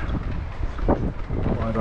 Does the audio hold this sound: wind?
yes